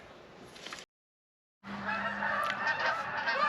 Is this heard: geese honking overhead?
yes